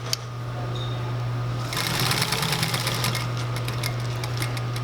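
A sewing machine runs steadily through fabric while stitching a box X stitch, a low constant motor hum that breaks into a fast, loud, continuous needle rattle about a third of the way in, close and alone with no voices.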